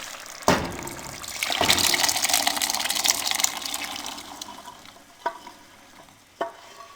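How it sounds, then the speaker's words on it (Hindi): Boiled chickpeas and lentils are tipped into a gravy for Lahori murg chanay along with their cooking water, giving a loud sloshing gush and sizzle for a few seconds, then quieter stirring with two sharp clinks of utensil on pot. "अब जो आपको पानी नज़र आ रहा है इस पानी समेत ही हम इस ग्रेवी में इसको शामिल कर देंगे।"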